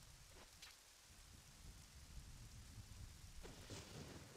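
Steady rainfall in the video game Zelda: Ocarina of Time 3D, a quiet continuous hiss of rain with a few faint brighter splashes or drops standing out.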